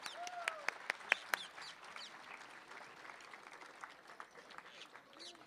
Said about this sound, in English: Another round of applause for a fantastic,